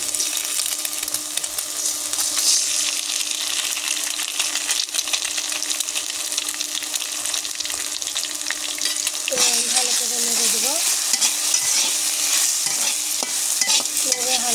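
Noodles frying with an egg in a pan, giving a loud, constant close sizzle with repeated scraping and stirring strokes of a utensil throughout and a brief metallic clink near the end, no speech.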